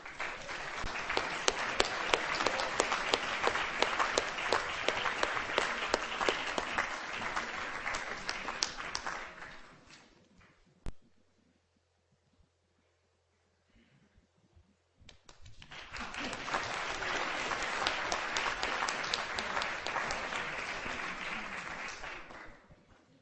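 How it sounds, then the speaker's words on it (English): An audience at a literary festival claps in two bursts: a long stretch of steady applause that fades out, a short near-silent gap with a single sharp knock, then a second round of clapping. "So we clap, clap, clap."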